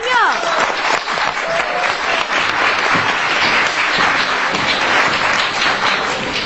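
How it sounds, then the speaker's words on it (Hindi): Crowd applause at a school program, a dense, loud and steady wash of clapping that carries on unbroken from start to finish. "उनके लिए तालियां।"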